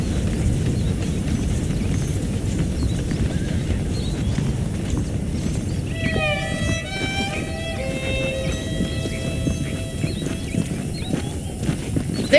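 Horse hooves clip-clopping on a ranch in the Red Dead Redemption video game prologue, a steady rhythmic trot running close and loud throughout, with brief musical tones joining partway through.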